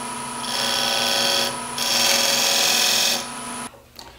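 A wood lathe trues up a tenon on a hollow form, two sustained bursts of scraping, hissing tool-on-wood cutting over a constant motor whine, then a brief clatter as the cut ends.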